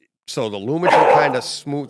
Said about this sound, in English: I think she might be barking for a few minutes.